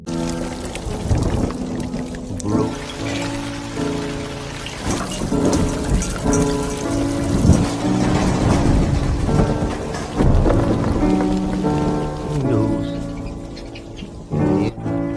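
Heavy rain pours steadily while rumbles of thunder roll through, close and loud throughout, with dense broadband wash and deep low-end swells.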